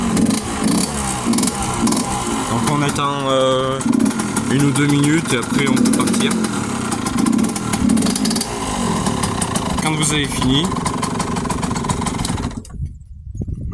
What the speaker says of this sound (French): on donne des petits coups de gaz pour pas que la moto elle s'éteint